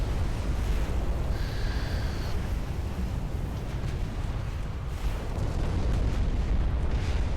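Naval gunfire and explosions rumble without pause in the warship battle game Ultimate Admiral: Dreadnoughts. The low booming roar is loud and sustained, and a faint short tone rises above it.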